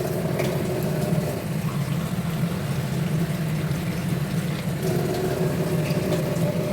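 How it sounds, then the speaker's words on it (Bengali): Water poured into a pan of fish curry masala, a steady hissing, rushing pour with a low rumbling undertone that runs continuously at moderate loudness. "আর একটু জল দিয়ে দেবো।"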